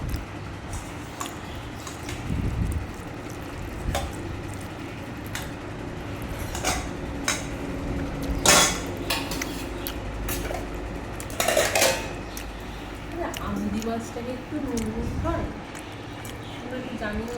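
A spoon scraping and clinking on a plate as dal is served onto rice, with light intermittent taps and a few sharper clinks under steady conversational talk in a quiet home.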